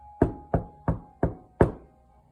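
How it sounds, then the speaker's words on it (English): Five evenly spaced knocks on a door on a snowy day, each a sharp thud fading quickly, with nobody talking. "one snowy day, she knocked at the stranger's door"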